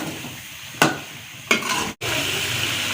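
Chicken and cabbage stir-fried in a pot, an even sizzle broken by two sharp scraping strokes of a spatula and a brief dropout, close and without talk.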